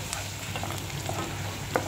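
Chopped onions frying in a hot pan, a steady close sizzle with occasional stirring scrapes across the short span and no voices.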